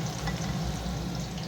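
Potatoes fry in oil with a steady, dense sizzle that stays even and close throughout.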